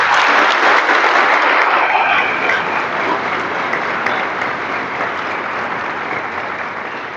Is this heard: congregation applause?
yes